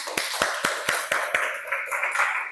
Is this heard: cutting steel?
no